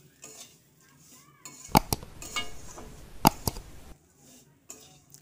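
Semai fried with cardamom and grated coconut is stirred in a pan, with sharp metallic clinks of the utensil against the pan over a soft, intermittent sizzle.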